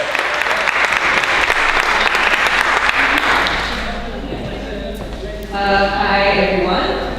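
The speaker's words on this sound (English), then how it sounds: "give her a round of applause" Audience at a conference panel in Cambridge breaks into dense, sustained clapping that fades over about five seconds before a voice begins speaking at the end.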